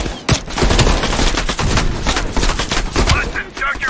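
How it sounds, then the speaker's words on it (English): Heavy machine gun fire from a ridge in the Call of Duty Black Ops Cold War campaign, a dense, continuous loud barrage of rapid bursts with explosive booms, under battle noise and some voice. "Heavy MG on the ridge."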